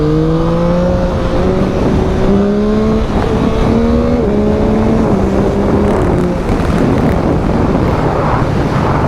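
A 2021 Yamaha MT-09 motorcycle engine drones steadily while riding, its pitch stepping up and down through gear changes beneath constant loud wind buffeting on the microphone.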